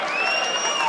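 A darts crowd at a quarterfinal match roars in a sustained, loud cheer mixed with whistles and applause, filling the arena without a break.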